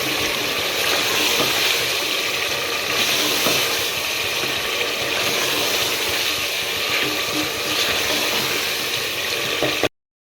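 Cut potato pieces frying in a pan for an aloo chicken curry, a steady dense sizzle running evenly close by for about ten seconds before cutting off abruptly, with no voices.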